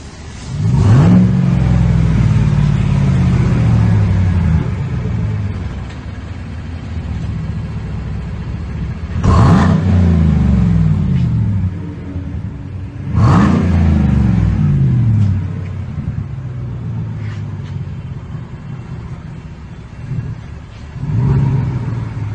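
A 2014 GMC 2500 truck revving through a V-tube muffler, three or four loud rising revs that fall back to a deep, steady idle rumble, close by and with no talk.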